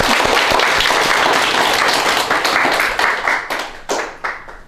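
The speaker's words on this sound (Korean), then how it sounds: "박수 좀 부탁드립니다." A book-talk audience gives loud, full applause for about three seconds, then the clapping breaks into a few scattered final claps as it dies away.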